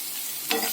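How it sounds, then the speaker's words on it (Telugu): Tomato mudhagaya mixture with salt frying in a pan, a steady close sizzle with a brief stirring scrape near the end. "మంచిగా ఫ్రై అవ్వనివ్వండి"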